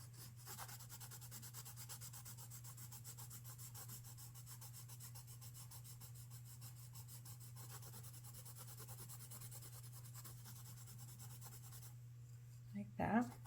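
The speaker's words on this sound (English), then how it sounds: "And I roll my pencil around a little bit." Colored pencil rubbed across paper, rolled between strokes, gives a steady soft scratchy rasp that runs continuously and close, ending with a few louder handling knocks.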